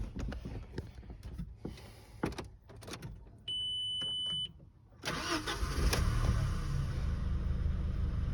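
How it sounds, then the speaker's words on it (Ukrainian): A 2003 Volkswagen Passat B5+ with a 1.8T engine is heard with a few clicks and a steady electronic tone, then it cranks and fires up, settling into a loud, close, steady idle. "Зараз вам заведу, відкрию капот, подивитися, як працює."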